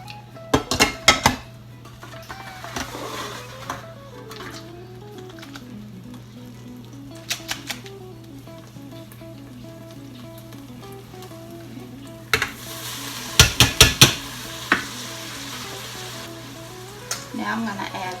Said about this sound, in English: the easiest way to drain hamburger meat is in a colander